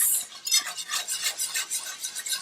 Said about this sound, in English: As you keep stirring and stirring and stirring. This is called a roux.